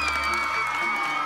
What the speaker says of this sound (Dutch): Mag ik een oorverdovend applaus voor Pien en Jelle